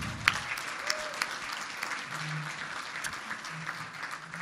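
Moderate audience applause for a speaker at a business morning event, even clapping from a room crowd, with a few faint voices and tones.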